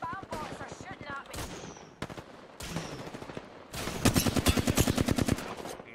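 Rapid video-game gunfire in Apex Legends, sharp cracking shots in bursts, ending in a fast sustained automatic volley, with players talking between and over the shots.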